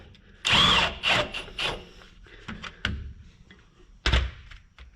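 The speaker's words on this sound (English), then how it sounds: "I'm just gonna hit it with the impact to get it in a little bit." An impact wrench driving a bolt into a new aftermarket rear link on a 3rd-gen Toyota 4Runner, heard as a close, loud burst of hammering whir followed by shorter rattling pulses and thunks, with no talking.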